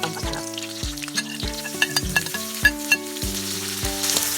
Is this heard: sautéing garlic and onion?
yes